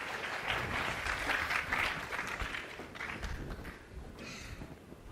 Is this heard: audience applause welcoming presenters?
yes